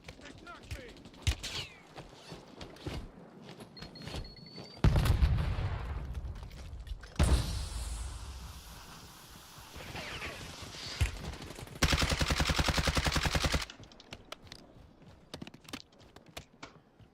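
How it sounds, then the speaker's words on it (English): Gunfire aimed at the player in Call of Duty Warzone, an online battle royale shooter: scattered close shots give way to loud rapid bursts and a long sustained automatic volley, with game voice lines in between. "Stop shooting at me."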